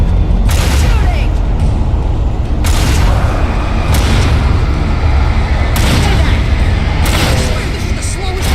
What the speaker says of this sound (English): Shooting. Shooting.